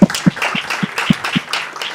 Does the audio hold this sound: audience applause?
yes